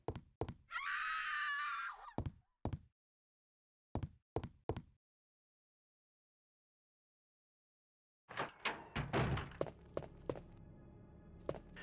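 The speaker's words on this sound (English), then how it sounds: "My second favorite scream." A stock scream from the video game Resident Evil 2 rings out sharp and loud for about a second, followed by scattered thuds and footsteps, a long silent gap, then a burst of clattering, thumping game noise.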